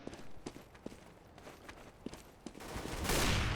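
Gunfire from a Counter-Strike GO firefight, a string of sharp, separate shots fired in quick, uneven bursts, followed by a rising roar of noise at the end.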